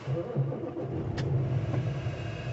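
A used lease semi truck's engine idling after starting, a steady low diesel rumble, close and even, with a brief faint click partway through and no talk.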